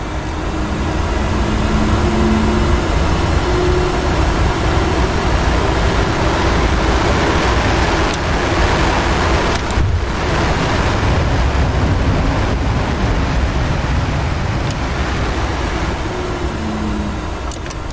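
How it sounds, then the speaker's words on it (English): F-4E Phantom jet engine running in the DCS flight simulator, a steady, dense, full-bodied roar that holds at an even loudness for the whole stretch with no talking. "Let's listen to some serious engine sounds."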